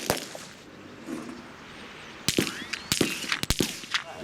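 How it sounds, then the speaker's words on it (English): Live rifle fire on a military firing range during commando training, several sharp distant cracks in quick irregular succession over outdoor background noise. "he's now graduated to live firing on the ranges at a virtual enemy"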